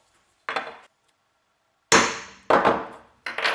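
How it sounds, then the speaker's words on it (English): A hammer striking a punch to mark holes in a stompbox enclosure: four sharp, ringing metallic blows, close and fairly loud, the first alone, then three in quicker succession after a pause. "so that's all the holes punched"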